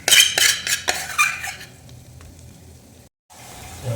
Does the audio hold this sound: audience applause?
no